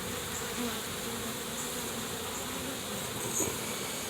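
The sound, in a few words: bees buzzing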